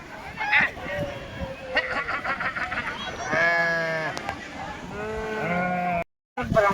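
Sheep in a herd kept by shepherds at a village Diwali festival bleat repeatedly, several loud wavering calls overlapping near the microphone, with people talking and calling out around them.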